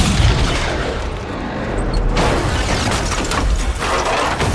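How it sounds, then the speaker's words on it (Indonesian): A car explosion in a film: a loud, sustained explosive roar with crackling bursts and heavy rumbling, dense and continuous throughout. "tiba-tiba saja mobilnya meledak"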